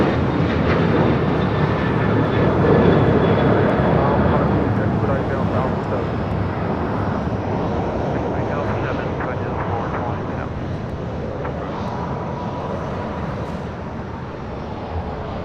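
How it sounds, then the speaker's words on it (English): A United Airlines Boeing 737-900ER takes off from LAX, its jet engines giving a broad, steady roar that stays loud and fairly close throughout, with faint talk underneath. "Next takeoff is United Airlines Flight 2146 heading to Denver on a 737-900ER."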